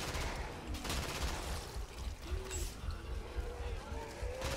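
Fully automatic gunfire in a video game rattles steadily through the scene, moderately loud and continuous, with people talking over it.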